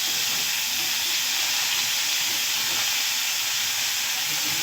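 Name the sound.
cauliflower frying in hot oil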